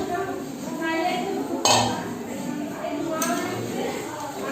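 Meat going into a cooking pot and being stirred at a home party meal, with metallic clanks of a utensil against the pot, two sharper knocks standing out, over soft scraping and a voice in the background.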